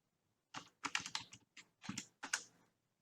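Computer keyboard keys clattering in several quick bursts of typing during an Arduino typing game, close and clear with brief pauses between runs.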